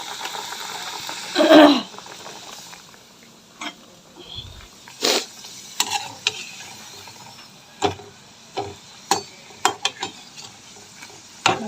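Coconut-filled pitha fry one at a time in hot oil, a soft sizzle broken by sharp stirring and scraping knocks, with a louder burst near the start and scattered clatters after.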